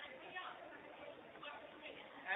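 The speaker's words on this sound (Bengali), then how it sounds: "আমার যে কলিগরা আছেন ওনারাও কথা বলছেন গ্রাহকদের সাথে, সেজন্য সাউন্ড শোনা যাচ্ছে" Low, muffled background chatter of several call center agents talking with customers at once, steady and indistinct, like a busy office floor.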